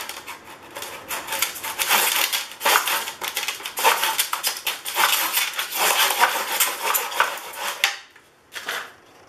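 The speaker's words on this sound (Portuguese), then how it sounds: "aí eu vou cortar no sentido diferente" Material for a jewelry peg board is cut in a rapid series of close, crisp crunching and snapping strokes that run for several seconds, then stop, with one last short cut.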